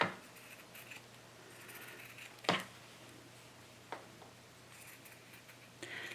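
Scissors snip excess fabric from a sewn seam of a robe in a quiet room, a few sparse close cuts spaced several seconds apart, with one sharper snip in the middle.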